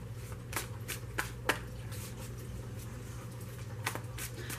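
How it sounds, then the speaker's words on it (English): Tarot cards being shuffled by hand, a series of crisp riffling bursts and soft flicks at an irregular pace, close and clear over a steady low fan hum, with no talking. "I've already pre-shuffled these three times with the bridge, but I just am going to go a little bit more with this"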